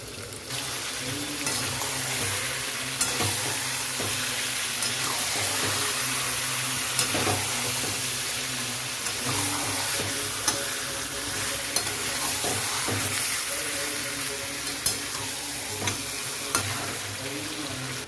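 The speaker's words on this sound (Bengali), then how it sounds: "এখানে পেঁয়াজটা ভালো কষানো হয়ে গেছে এখানে এখন চিকেনগুলো দিয়ে দিচ্ছি" Chicken pieces fry in a pan with onions already browned, for chicken biryani, giving a steady close sizzle and hiss with regular stirring scrapes throughout, no talk.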